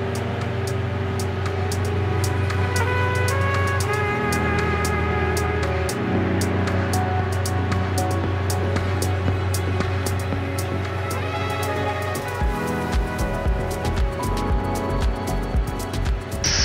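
Diamond DA50 RG aircraft engine at takeoff power, a loud steady drone with strong tonal harmonics that shift in pitch partway through, heard continuously from inside the cabin.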